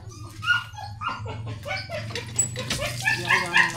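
A dog barks and yips in short bursts outdoors during a riverside walk, close and fairly loud, with some whimpering mixed in and faint background voices.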